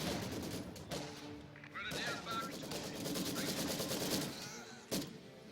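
Bursts of machine gun fire and other gunfire from the video game Company of Heroes 2 in a snowy 2v2 battle, rattling steadily under dense battle noise, with one sharp louder crack near the end.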